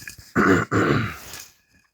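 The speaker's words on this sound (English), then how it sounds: "every time I start recording a video, I need to clear my throat" A person clears their throat twice, two gruff rasping bursts close to the mic, then quiet.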